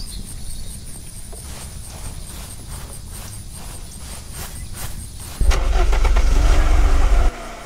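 In the Unturned survival game, a few footsteps are followed by a car engine starting loudly and running for about two seconds before cutting off.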